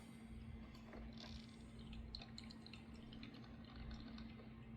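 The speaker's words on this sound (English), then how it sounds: "It probably sucks down so much water at a time into the little instant hot chamber and then pisses it out into the pot" A coffee maker draws water into its instant hot chamber and then pours it into the pot. There is a steady, faint trickle and drip over a constant low hum, with no talking.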